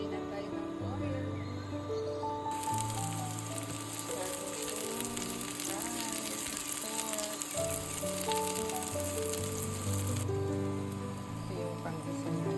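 Oil sizzling in a pan for a pinakbet sauté with ginger, garlic and onion, a bright crackling hiss that swells midway and then drops back, while music plays steadily underneath.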